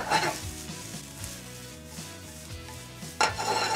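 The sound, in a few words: mushrooms sautéing in a pan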